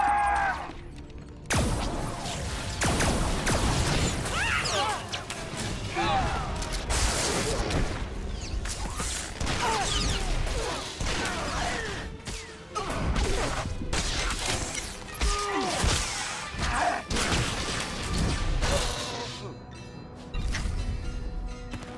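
Troopers open fire in a video game, with dense, loud bursts of weapon fire, crashes and impacts over a steady battle din lasting most of the stretch, after a brief quiet start.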